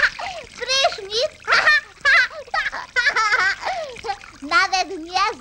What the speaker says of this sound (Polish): Prysznic.